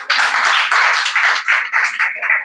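Applause from an audience at a school English-language contest semi-final, honoring a participant: steady, fairly loud clapping from a group, continuous for about two and a half seconds with no voices over it.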